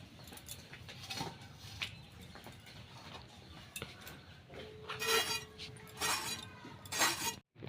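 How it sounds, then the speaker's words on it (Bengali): A knife cuts snake gourd into thin slices at home, giving close, irregular clicks and taps against the board, with a few louder sharp strikes toward the end and no talking. "এখন আমি চিচিঙ্গা কেটে নিচ্ছি"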